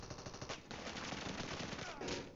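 Rapid machine gun fire in a shooter video game, dense rattling bursts of automatic shots, loud and continuous with brief pauses between strings.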